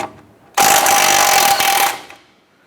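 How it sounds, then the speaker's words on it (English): A power tool with a 19mm socket loosens the outer tie rod nut on a 2008-2012 Honda Accord, giving a loud, steady buzzing rattle that lasts about a second and a half, then cuts off. "Using a 19mm socket, let's go ahead and loosen the nut on our outer tie rod."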